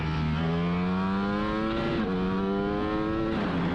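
A 1000cc motorcycle accelerates hard nearby, its engine note climbing steadily in pitch through the gears with a brief dip at each shift, loud and continuous with no speech.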